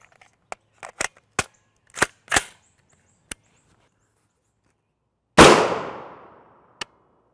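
A 5.56mm rifle fires M193 55-grain FMJ rounds. A string of sharp, fairly distant cracks comes first, then one much louder close shot with a long decaying ring, and a final faint crack.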